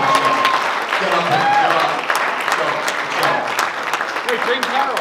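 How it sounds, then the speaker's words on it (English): Lively applause for a sponsor at a boxer announcement event, sustained clapping from a gathered crowd with voices and calls mixed in underneath. "How about a round of applause for Chuck Merritt"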